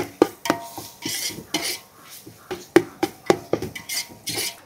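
Ginger garlic paste and mutton sauté in a pot for biryani, with sharp spoon-on-metal scrapes and clinks in an irregular rhythm over a faint, soft sizzle, close by.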